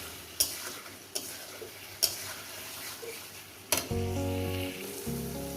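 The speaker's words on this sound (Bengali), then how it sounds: "কষানো হয়ে গেছে" Catla fish curry stir-fried (kosha) in a pan, steady sizzling with several sharp spatula knocks against the pot, then a louder, denser sizzle swells near the end; no voices.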